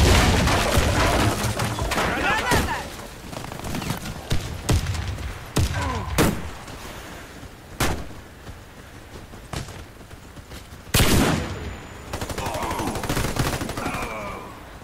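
Dense bursts of video-game gunfire with heavy booming blasts, including grenade explosions, in a round-based team shooter; repeated loud cracks and thuds scattered irregularly throughout, with a few quieter gaps between volleys.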